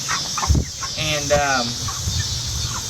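Chickens in a backyard coop cluck and murmur in a short series of calls, close by over steady background noise, with a brief bit of speech.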